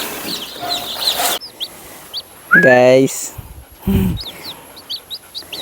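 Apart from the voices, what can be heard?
chickens and chicks on a small poultry farm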